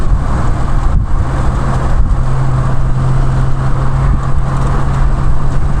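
Steady, loud engine drone of a 1971 Triumph Vitesse MK2 on the move along the A606 in Rutland, with a sustained low hum and road roar throughout and no pauses.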